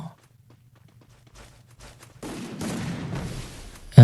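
Gunfire in an online shooter video game sounds after near silence, with a dense crackling burst of shots lasting about two seconds and a louder sharp report at the very end.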